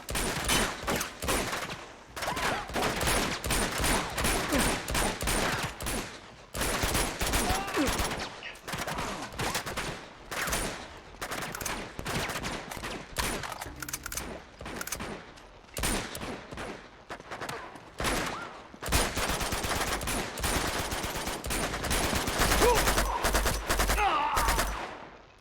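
Dense gunfire in the Uncharted 2: Among Thieves video game, continuous rattling bursts and rapid shots with brief gaps, loud and relentless over about twenty-five seconds, with faint voices underneath.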